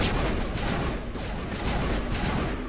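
Enemy gunfire in Mass Effect Legendary Edition (first game): a loud, dense, unbroken rattle of shots that fills the whole short stretch with no pause.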